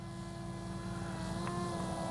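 A radio-controlled model airplane flies low overhead, its small engine giving a steady, buzzing drone with a constant tone throughout, close and moderately loud, with no talk.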